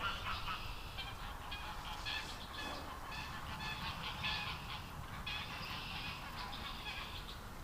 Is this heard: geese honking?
yes